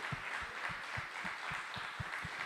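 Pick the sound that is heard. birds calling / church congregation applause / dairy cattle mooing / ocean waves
church congregation applause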